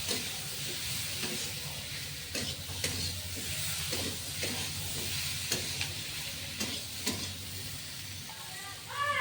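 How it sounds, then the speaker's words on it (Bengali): Ingredients are stirred with salt in a hot pan, scraping and sizzling steadily with repeated utensil strokes against a constant frying hiss, close and fairly loud throughout. "ভালো করে এর সঙ্গে এগুলো মিশিয়ে নিয়ে তারপরে জল দেবো।"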